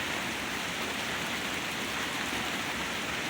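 Rain pours down outside in a dense, even hiss, close and constant throughout, with no talking over it.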